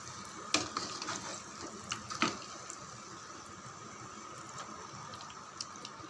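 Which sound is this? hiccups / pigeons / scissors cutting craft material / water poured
water poured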